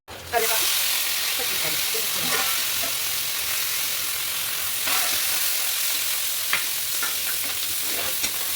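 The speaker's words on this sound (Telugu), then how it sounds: "ఇప్పుడు తరిగి పెట్టుకున్న పచ్చిమిరపకాయలు, కరివేపాకు కూడా వేసి వేయించుకోవాలి." Green chillies and curry leaves fry in hot oil for upma, giving a steady broadband sizzle with stirring scrapes throughout, loud and close, with no talk.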